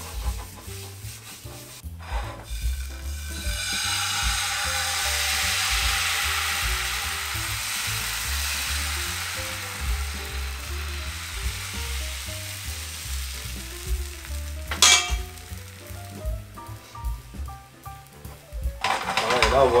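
Crepe batter sizzles in a non-stick pan with a steady, fairly loud hiss, a few sharper scrapes and knocks breaking through, and a voice heard faintly at moments.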